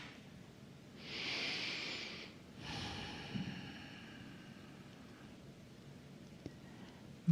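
Slow, audible breaths in and out from people during a guided meditation, a long airy exhale followed by another softer breath, fairly close in a quiet room.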